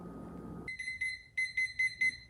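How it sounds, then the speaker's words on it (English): A beer-brewing kitchen timer goes off, a close, high electronic alarm of quick repeated beeps in bursts after a brief low rumble, with no talking. "All right, our timer just went off."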